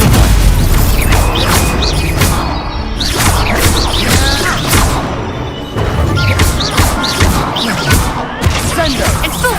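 Spell effects in a Harry Potter video game, loud booms, crashes and whooshing bursts in uneven clusters, close and forceful, with a voice calling out between them.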